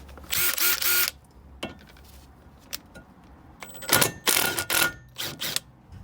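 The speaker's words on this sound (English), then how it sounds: "let's get the gun on that to loosen it off." Pneumatic impact gun on a bolt of a Ford ST170 during restoration, two loud bursts of rapid rattling hammering, the first about a second long and the second longer and broken up, with quiet workshop clatter between.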